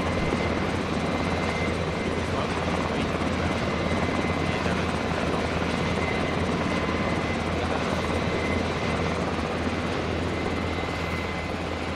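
Helicopter flying in a video game, a steady, loud rotor and engine roar that runs unbroken from start to finish with no voices.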